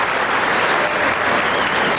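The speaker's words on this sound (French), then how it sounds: "Il remporte son premier jeu, Mardy Fish, il faut l'applaudir" Tennis crowd at Indian Wells applauding Mardy Fish for winning a game in his 2002 first-round match against Sampras: dense, steady clapping from a large audience, filling the whole stretch at even loudness.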